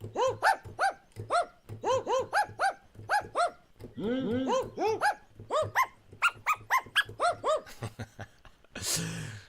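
An electronic instrument plays a sampled dog bark in a rapid rhythmic sequence of repeated loud barks, pitched in patterns, ending with a noisy blast.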